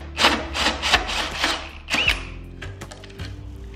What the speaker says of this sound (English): let's get to drilling some holes.